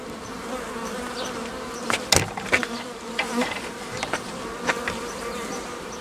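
Honeybees swarm around an open hive as the frames are inspected, a dense steady buzz with a few louder passes close by and some sharp knocks from the frames, no talk.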